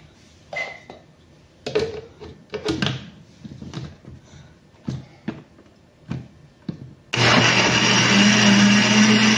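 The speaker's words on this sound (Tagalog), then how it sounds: "So, i-blender na natin siya." Kitchen clatter and knocks give way to a loud, steady blender whir, blending avocado cake ingredients, that starts abruptly and runs continuously to the end.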